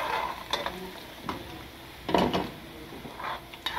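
Chopped garlic sizzles softly in a pan while a utensil scrapes and clacks against it in irregular stirring strokes, close by and with no talking.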